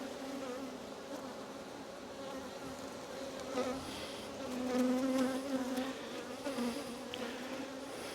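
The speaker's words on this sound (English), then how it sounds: "So many freaking bees." A dense swarm of honeybees at an open hive drones in a steady, close, loud buzz that swells and fades a little, with no talking.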